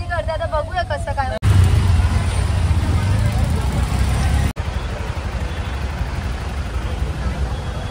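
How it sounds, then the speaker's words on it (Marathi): Congested road traffic on the way to the Mhasa fair near Murbad, a dense wash of engines and crowd babble, with a bird chirping briefly at the start and a heavier rumble in the middle. "हे बघा किती ट्रॅफिक आहे, पूर्ण असं भरलेलं आहे."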